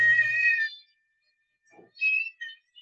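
An aggressive cat in offensive aggression, tense and vocalizing: a loud, strained yowl for about half a second, a short pause, then two more sharp, harsh bursts. Close and alone, with no talk.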